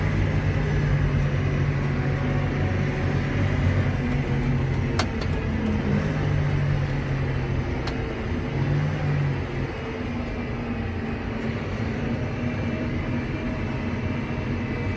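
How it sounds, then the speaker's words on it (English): A John Deere 8320R tractor drives along with a steady, loud engine drone and continuous low rumble from the cab, with no talking over it. "This tractor rides smooth like a car."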